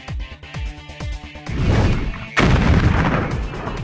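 A cartoon tank in the Puppy Rescue Patrol kids' adventure game fires a series of booming shots, several quick thuds followed by heavier blasts and a loud crashing explosion, close and prominent.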